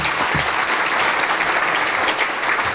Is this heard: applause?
yes